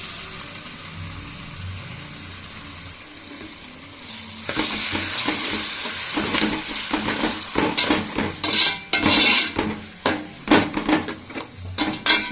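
Curd goes into masala frying in a pot for beef biryani: quiet background for about four seconds, then loud close sizzling with repeated stirring scrapes and spoon clatter, no talking.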